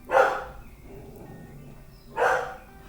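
A dog barks twice, a few seconds apart, each bark short and fairly close, with quiet room noise between them.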